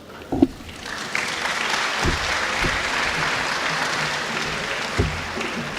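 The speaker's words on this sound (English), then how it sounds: "Let's give them a round of applause" Audience applause at a medical school pledge ceremony, a steady wash of clapping from a large crowd that holds for several seconds, with a few sharper claps and bumps rising out of it.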